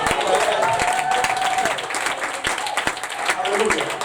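A church congregation applauds and cheers together during a French-language worship service, a sustained, dense crowd clapping that holds steady throughout, with voices mixed into the applause.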